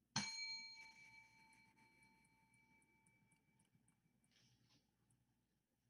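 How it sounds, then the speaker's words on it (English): A single bell is struck to open a game show round: one bright ring with sustained tones that fade slowly over several seconds, heard alone with no talk. "I'm going to ring the bell"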